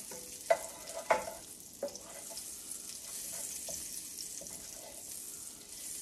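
Spoon stirring deer heart pieces frying in a pan: a steady close sizzle with a few sharp knocks and scrapes of the spoon early on, then continuous soft frying with no voices.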